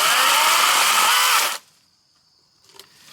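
Wild Badger 40V battery chainsaw with a 16-inch bar running loud and steady at full speed for about a second and a half, then cutting off abruptly; faint rattling noises follow near the end.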